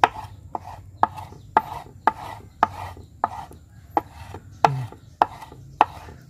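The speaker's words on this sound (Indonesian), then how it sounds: "Terus kalian potong-potong sampai benar-benar halus." A knife chops tubifex worms finely on a board to make betta fish food, giving steady, evenly spaced sharp chops about twice a second, close and clear, with no talking.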